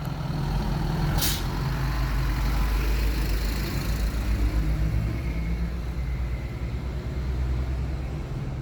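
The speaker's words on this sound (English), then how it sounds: "Another small bus that'll stop everywhere." A small bus on a Mexican beach-town street rumbles close and loud with a heavy engine drone, and a sharp hiss of air brakes bursts out early on.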